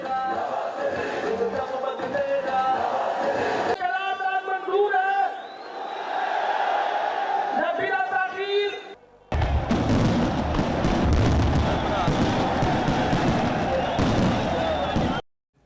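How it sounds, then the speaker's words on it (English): Fireworks burst above a crowd at a political rally in Pakistan, crackling and popping amid loud cheering and chanting, with a reporter's voice talking over parts of it. "above them was a fireworks display."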